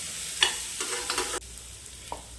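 Onions and curry leaves sautéing in a pan, a steady broadband sizzle with several scraping stirs of a spoon against the pan, close and fairly loud, with the sizzle dropping lower partway through.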